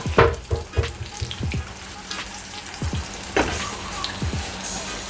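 Saltfish fritters fry in hot oil in a Jamaican home kitchen, a steady crackling sizzle broken by sharp spits and pops, close and fairly loud, with a few soft utensil taps and no talking.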